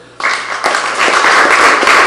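An audience breaks into loud, dense applause at an evening panel on water and electricity prices in Aruba, welcoming a panel member; the clapping starts abruptly and swells, sustained alone.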